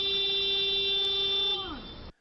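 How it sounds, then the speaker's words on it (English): A minivan's horn gives one steady, loud blast at a traffic intersection, held for about a second and a half before it drops in pitch and cuts off. "where the minivan appears to honk at the woman it almost ran down"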